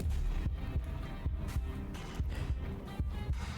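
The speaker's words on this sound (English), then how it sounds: "Because that heartbeat is so much louder." A heartbeat throbs in the video game Slay the Princess, with low, regular thumping pulses about twice a second over a dense background hum.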